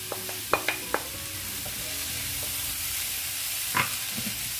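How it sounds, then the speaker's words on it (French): Prawns frying with green and orange bell pepper in a pan give a steady sizzle, with a few sharp clinks of utensil against the pan near the start and another stir later. "Donc je fais revenir le tout avec les gambas."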